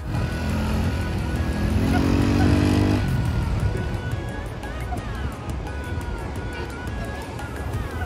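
Motorbikes ridden on the sand at a Maharashtra beach, an engine revving and droning up close, then easing into a lower rumble over wind and surf noise.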